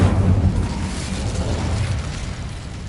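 A fire spell blast from a Harry Potter video game: a dense, roaring whoosh of flame that is strongest at the start and then fades gradually over about three seconds, with no voices over it.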